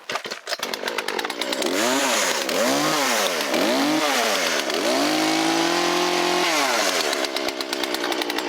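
A hopped-up McCulloch ProMac 610 chainsaw runs loud and close, revving up and down in repeated swells before holding a high steady scream, then dropping back toward idle.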